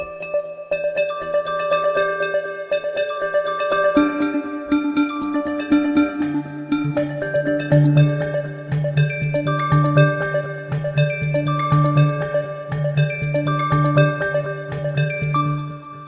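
A software instrument plays a steady, rippling arpeggio, its layered synth notes cycling in a quick even rhythm while a lower sustained part joins midway.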